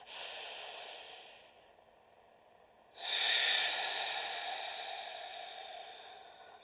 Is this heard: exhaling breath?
yes